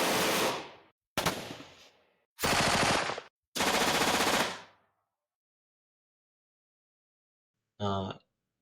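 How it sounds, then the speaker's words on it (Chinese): Generated weapon gunfire sound effects for a shooting game: four rapid machine-gun bursts of varying length in quick succession, then a pause and one short final burst, sharp and loud against silence. "如果你是射击类的游戏呢，我们就可以生成武器射击的声音。"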